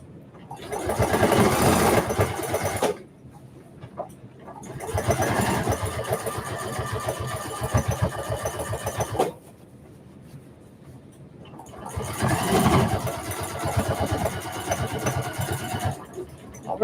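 Home sewing machine stitching a fabric maker caddy in three bursts, each running steadily for a few seconds with short pauses between, the motor whir close and fairly loud with no talking.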